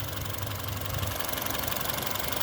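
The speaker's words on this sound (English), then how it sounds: "The engine sounds very sweet" A 1339cc Honda Civic 1.3 i-VTEC petrol engine from a 2010 Si idles at a steady, even hum with a low rumble, close and constant throughout and free of any talk.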